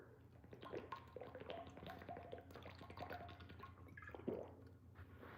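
Someone takes a drink of water close to the microphone, a faint run of wet sips, swallows and small liquid squishes with a soft gulp near the end, heard alone without speech.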